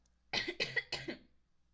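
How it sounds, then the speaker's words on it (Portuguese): A short burst of three or four close coughs in quick succession, fairly loud against a quiet room, with no talking during it. "tentei não tossir, mas não deu"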